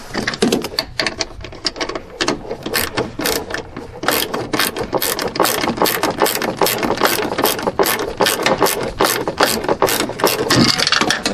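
A ratchet wrench clicks through fast, loud, closely spaced strokes while loosening the rear strut nut on a Lexus ES300, an unbroken rhythmic ratcheting run with no talk.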